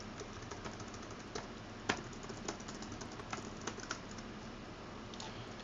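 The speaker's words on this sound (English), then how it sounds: "you type your message" Fast, steady typing on a computer keyboard while entering a sign message in Minecraft, a continuous patter of close keystrokes with a few sharper hits, no voices.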